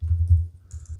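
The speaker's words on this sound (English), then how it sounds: "I'm so good at typing." A brief burst of typing on a computer keyboard, a few quick, soft key clicks close by with no talking.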